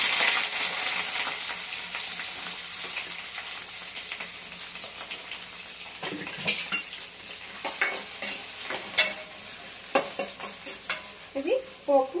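Onion and green chillies sizzle in hot oil tempering for mint rice, a steady fry that turns busier in the second half with repeated spoon scrapes and clatter against the pan, close and without voices.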